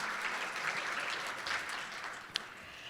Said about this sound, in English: Yes, that's worth applauding.